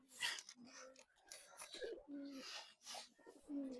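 Pigeons coo inside a coop being wrapped in cloth against winter cold, low repeated throaty coos in short phrases close by, with a brief higher chirp and faint rustling.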